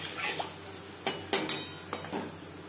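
Ground spices with turmeric powder and a splash of water are stirred in a pan; a few distinct, close scrapes and clanks of a spoon against the pan, separated by brief quiet gaps.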